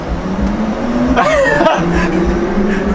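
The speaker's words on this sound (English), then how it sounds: "Let's drive it. So first I'm gonna pull forward" A Mercedes-Benz car pulls forward from a stop, its steady hum joined by a rising and falling whine near the midpoint, loud and close.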